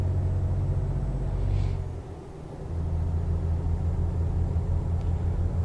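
A truck engine drones steadily in Euro Truck Simulator 2, a low rumbling hum that dips briefly as if shifting gears, then resumes its even roar while driving, with no talking.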